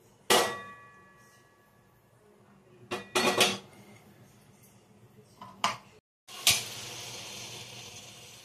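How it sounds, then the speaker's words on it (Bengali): Chicken kabab cooking in ghee on a tawa: several sharp metal clangs of utensils against the pan, then a steady, close sizzling hiss. "এই তাওয়ার মধ্যে ঘি দিয়ে"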